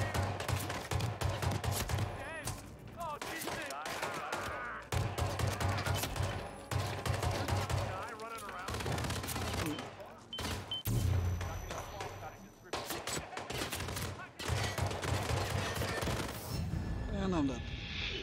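Gunfire in the Hitman VR video game, repeated sharp shots in bursts and single cracks spread across the stretch, fairly quiet, under someone talking.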